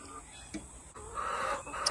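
Chickens cluck close by in short bursts, with a busier stretch of clucking partway through and a sharp squawk near the end.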